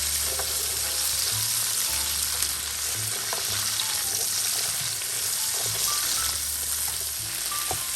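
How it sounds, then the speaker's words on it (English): Asparagus and green beans sauté in butter and garlic, giving a loud, continuous sizzle with occasional stirring knocks throughout. "Saute the asparagus and green beans for about 2 to 3 minutes."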